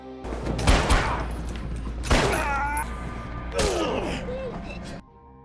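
Gunfire in a film scene where a sheriff and two thugs are shot: three loud, sharp blasts about 1.5 seconds apart, each trailed by a reverberant rumble and scuffling over a low steady hum.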